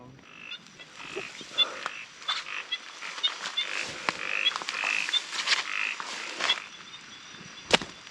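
Frogs croak in a Thai forest during heavy rain, with many overlapping calls, some near and some farther off, in an irregular chorus and no voices.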